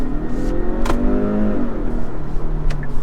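A 2021 Kia Stinger GT Line with a turbocharged 2.0 engine revs up close and loud, its pitch rising as it accelerates after noticeable turbo lag, with a steady droning roar and a couple of brief clicks.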